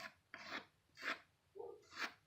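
Close, quiet strokes of hand sanding over dried wood filler on a wooden piece, four or five rasping back-and-forth passes with short pauses between, no talk.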